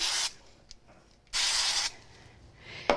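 Two bursts of spray glue from an aerosol can, a short hiss then a longer one, close by, followed by a faint rattle and a click.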